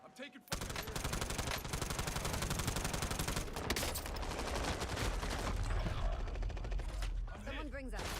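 Dense automatic gunfire in the video game Warzone, loud rapid bursts filling the scene almost without pause, with a voice talking over the shooting.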